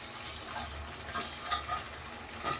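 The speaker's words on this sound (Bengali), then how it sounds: "দিয়ে কিন্তু এটা খুব ভালো করে কষতে হবে ডালটা, এভাবে কষে নিতে হবে" Fried moong dal being stirred and roasted in a frying pan for a Bengali dal-and-egg curry, giving a soft, steady sizzle with faint scraping strokes throughout, no voices.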